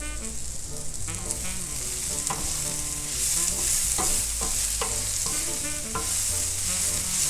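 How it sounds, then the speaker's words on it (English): Shrimp-taco coleslaw gets a final stir at the stove, a busy close mix of scraping, soft clatter and a steady frying sizzle underneath, with no voice. "And I'll give my coleslaw one last stir"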